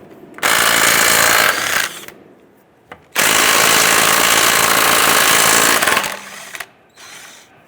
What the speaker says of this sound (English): Using our 21mm socket, we're going to go ahead and loosen and remove our lug nuts.